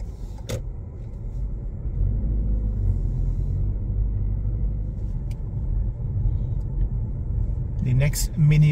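A car pulls away on a UK driving test near Darwen, heard from inside as a steady low engine and road rumble, with a brief voice at the start and at the end.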